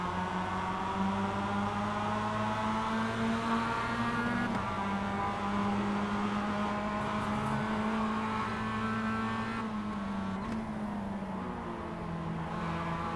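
Engine of a race car driving on a track in a rookie race, a steady loud in-car drone with pitch rising and dropping through gear changes and corners, other cars faintly audible.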